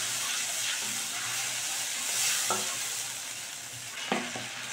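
Mustard and poppy seed paste thinned with water fries in a pan for a dahi pabda fish curry, a continuous close sizzle broken by a few scraping stirs of a spoon, and no talking.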